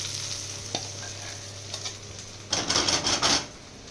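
Gongura pickle stirred in extra oil with a spoon, a brief close scrape and clink, then a short burst of sizzling, wet mixing sounds against a steady low hum.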